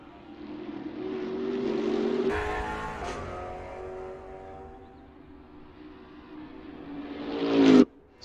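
BMW race car in a sim racing GT2 series event: an engine drone builds and shifts, drops back, then revs to a loud peak before cutting off sharply, no talking.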